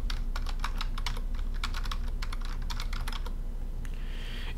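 Someone types on a computer keyboard, tapping out a quick series of close, crisp keystrokes in uneven bursts over a low steady hum, then the keys stop.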